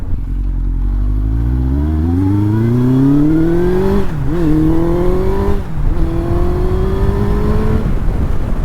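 A Yamaha FZ1 Fazer 1000 motorcycle engine revs up steadily, pitch climbing, then dips and rises again in a couple of quick throttle blips before holding a high steady drone.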